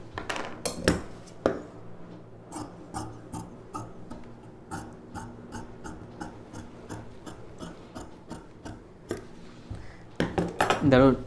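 Fabric being cut with scissors for a girl's paavadai sattai puff sleeve dress, a string of crisp snipping clicks spaced through the clip, with a louder rustling burst near the end and a low steady hum underneath.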